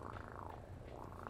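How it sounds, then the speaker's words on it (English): A cat purring close up, a low continuous rumbling purr with a soft pulsing rhythm, heard alone. "No, that's a cat."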